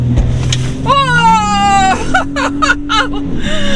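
A 2022 Ford Raptor on 37-inch tires accelerates hard, its engine note climbing steadily over a few seconds, while excited voices shout and exclaim over the rising roar.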